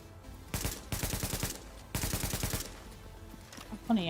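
AK rifle fire in a hardcore video game playthrough: two loud bursts of rapid automatic shots, each about a second long, close and punchy, followed by a short clatter at the end.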